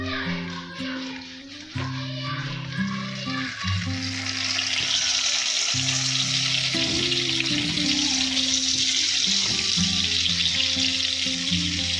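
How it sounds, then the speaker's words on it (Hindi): Butter melts and sizzles in a kadhai as a soft, continuous frying hiss, with a steady tonal hum running underneath and quiet clinks early on, close and moderately loud, with no talking. "कढ़ाई के अंदर बटर डाल देंगे, मेल्टेड बटर"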